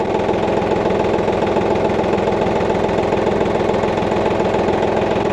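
A New Holland TT3.50 Plus 50-horsepower tractor engine idles steadily, close and loud, with an even low rumble throughout and no voices.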